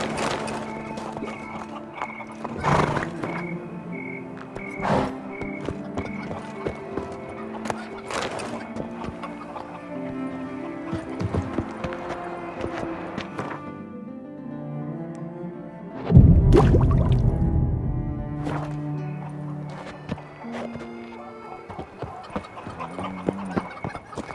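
Roach, a horse in The Witcher 3: Blood and Wine, gallops with a steady run of hoofbeats under layered in-game music. A louder thump of movement rises briefly near the end.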